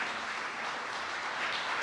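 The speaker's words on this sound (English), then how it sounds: "you acknowledge them with applause today." An audience at a city hall of fame induction ceremony gives a brief, fairly quiet round of steady applause, with no voices over it.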